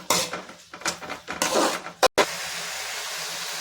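Masala being fried and stirred in a pan sounds as a metal spoon clinking and scraping against the cookware in uneven bursts, close and fairly loud, followed by a quieter steady hiss.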